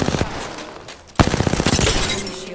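Rapid automatic gunfire in the Apex Legends video game, loud and close, with a brief lull before a second dense burst of repeated shots ringing out with sharp reports.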